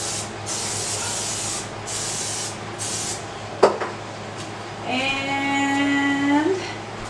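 Several short hissing bursts of an aerosol spray, steady and close, followed by a low mechanical hum with a rising whine.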